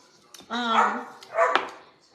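A puppy barks and whines in a kitchen, two bursts of high, yelping barks at close range.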